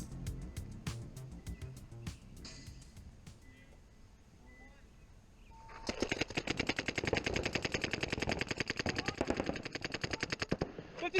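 Paintball markers fire during a match, sparse shots at first, then a dense, rapid stream of sharp pops from several markers close by, with voices faintly in the background.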